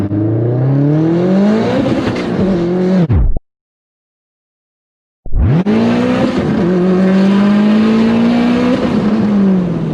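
A built Subaru STI accelerates hard through the gears, its loud engine note climbing steadily, cutting out briefly for a shift, then pulling again at full volume with no talk over it.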